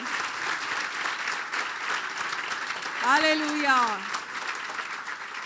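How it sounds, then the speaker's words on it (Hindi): Audience applause during a Christian sermon in a church hall, a steady broadband clatter of many hands lasting throughout, with a preacher's voice rising over it briefly near the end. "यीशु के लिए जोरदार तालियां बजा दे।"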